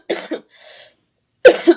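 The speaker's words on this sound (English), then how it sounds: "I'm really trying to get over this cough." Two sets of harsh coughs separated by a brief quiet gap, close and fairly loud, with a soft throat noise in between.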